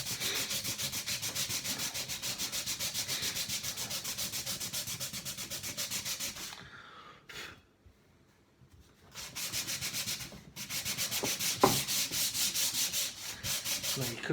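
Hand sanding of a wooden shelf with a sanding sheet, a steady, fast back-and-forth rasping scrub that runs continuously, stops for about two seconds partway, then resumes with a louder scrape.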